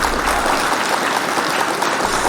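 A short applause sound effect played during a news and updates show; steady crowd clapping runs without a break for the whole moment.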